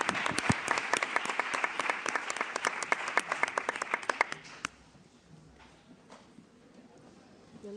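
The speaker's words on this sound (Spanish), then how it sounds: "dar un aplauso a los 3 ponentes" An audience at an education conference claps, dense and rhythmic for about four and a half seconds. The clapping then thins into faint scattered claps and room noise.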